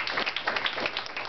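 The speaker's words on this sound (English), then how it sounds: "Let's give a round of applause for our new executive director." Applause from an audience at a summer jobs program ceremony, a steady, dense wash of many hands clapping together for a new executive director, fairly close and continuous throughout.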